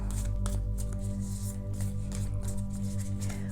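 Cards being shuffled close up, a run of quick riffling and sliding flicks over a steady low hum, with no talking.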